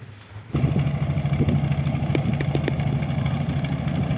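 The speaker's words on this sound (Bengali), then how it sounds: "আপনারা দেখতে পাচ্ছেন বৃষ্টি উপেক্ষা করেই মানুষ ট্রলারে করে নদী পার হচ্ছে।" A trawler boat's motor carrying people across the Padma river in rain near Harirampur, Manikganj, chugs in suddenly after a short quiet moment and then runs on as a steady, close, throbbing drone.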